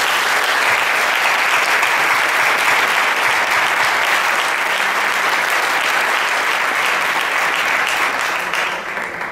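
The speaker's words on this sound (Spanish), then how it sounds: "por favor, quiero un gran aplauso." Loud sustained applause from a large audience at a ham carvers' contest in Teruel, dense continuous clapping that holds steady and begins to fade at the very end.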